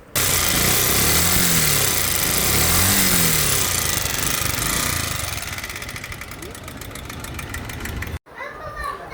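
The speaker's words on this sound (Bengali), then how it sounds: "এই তো বাইকের সাউন্ড শুনলেন" Bajaj Pulsar UG3 motorcycle engine with a sound problem, running loud and close with a steady rattling drone, children's voices and speech audible in the background before it cuts off near the end.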